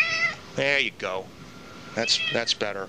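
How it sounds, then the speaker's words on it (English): A pet cat named Rock meows indoors, several clear, close, rising calls spaced through a short stretch, with someone talking over and between them. "That's my cat."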